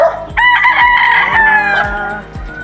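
A gamefowl rooster lets out one long, loud crow close by, the drawn-out call rising and then fading over a couple of seconds.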